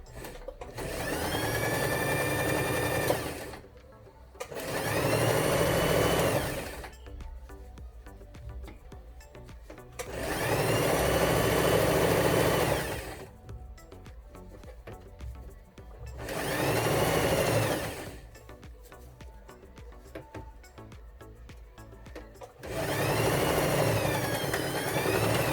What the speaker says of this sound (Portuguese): Nessa hora aqui, você não precisa costurar tão rápido, então costura com calma